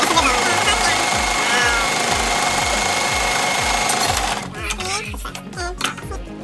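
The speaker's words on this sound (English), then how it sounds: "You sew the edge." A sewing machine stitches the edge of a homemade fabric face mask with a steady, rapid mechanical chatter up close, then stops, and quiet voices follow.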